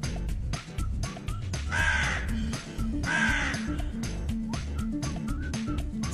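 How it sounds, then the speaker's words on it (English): A crow caws twice in loud harsh bursts over continuous background music in a children's bird-sounds lesson. "Crow."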